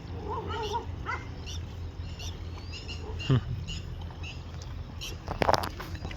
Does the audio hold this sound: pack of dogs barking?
yes